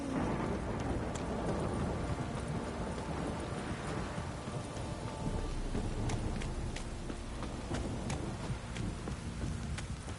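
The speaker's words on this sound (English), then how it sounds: "If it don't stop raining, my arse will rot off." Steady rain pours down with rumbling thunder in a stormy scene from The Witcher 3 video game, a dense continuous downpour with sharp drips and occasional crackles throughout, no talking.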